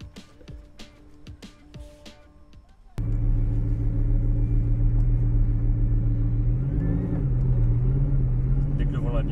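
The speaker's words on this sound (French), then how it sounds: "Je vous propose maintenant de passer à l'essai routier de la Bugatti Veyron Vitesse." Bugatti Veyron Vitesse on a road test: a loud, steady, close engine rumble starts abruptly and holds, with a brief rise in pitch as it accelerates. Quieter knocks and handling sounds come first, and a voice speaks over it.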